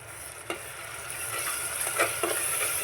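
Yogurt-based masala paste frying in hot oil in a pan for egg biryani, a steady close sizzle with a few stirring scrapes, no talking.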